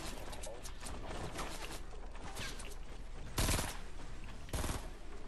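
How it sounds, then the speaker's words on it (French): Rapid automatic gunfire in Fortnite Battle Royale rattles on steadily at a moderate distance, punctuated by two louder, closer bursts, with no speech over it. "Oh, ça tire, ça tire."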